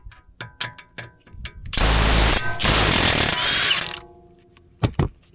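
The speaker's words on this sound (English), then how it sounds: "Blast off with impact first." An impact wrench rattles hard for about two seconds while removing a thrust arm bolt on a BMW G20, with a short pause mid-burst, framed by lighter metallic clicks and taps close by.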